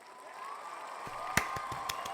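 Audience applause at the close of a sports talk show's Paris 2024 Olympics recap: a steady, fairly soft wash of clapping with a few sharper claps standing out.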